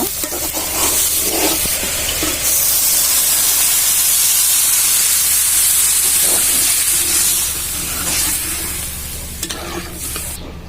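Water poured into a hot frying spice mixture for khichuri bursts into a loud, sustained hissing sizzle with steam and stirring scrapes, close and continuous, easing slightly toward the end.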